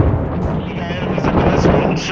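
A frag grenade going off in a first-person shooter, a close, loud, rumbling blast that rolls on for a couple of seconds, with voices talking over it.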